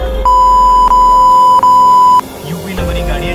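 A loud, steady censor beep runs for about two seconds with brief breaks, masking swearing. Traffic and street noise follow, and voices are heard faintly.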